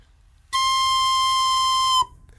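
A shrill, sustained high squeal from an overblown recorder note, starting abruptly, holding steady at full loudness for about a second and a half, then cutting off.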